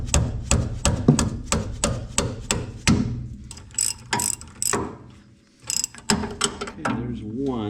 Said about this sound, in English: I'm going to use a hammer.